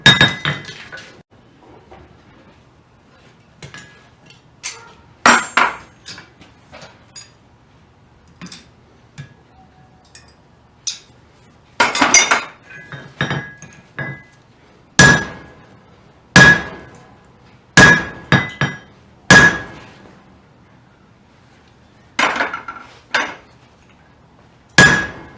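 Metal hammer blows strike a punch on a bolster block, sharp ringing clinks in irregular groups, some light and some heavy, separated by quiet gaps with faint, brief tones lingering after several strikes.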